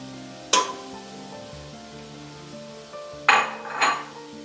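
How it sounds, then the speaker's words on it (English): Chopped onion hits a hot pot for New England clam chowder with a sharp sizzle, followed by a couple of clattering utensil knocks and short bursts of frying noise; no talking. "get that in here and get this sizzling"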